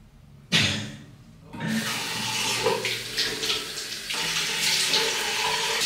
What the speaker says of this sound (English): Rinsing your face with cold water in the morning is so good.